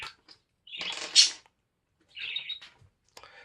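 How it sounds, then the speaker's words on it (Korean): A pet parrot at home chatters in short bursts of high chirps and squawks separated by quiet gaps, fairly close and with no talking over it. "저희 집에 그 앵무새가 있는데 어, 저, 제가 말하고 있으니까 같이 떠드네요"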